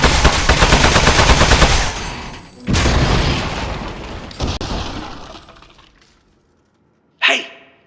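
Turret gunfire in the video game Aperture Desk Job, a loud rapid rattle with glassy, crashing impacts that fades out into near silence before one last short burst.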